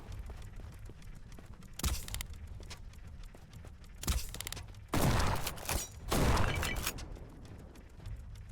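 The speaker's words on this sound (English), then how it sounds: "So that's the shotgun." Shotgun blasts in the video game Black Skylands, a few heavy broadband bursts spaced irregularly over a low rumbling game background, with two louder, longer blasts near the end.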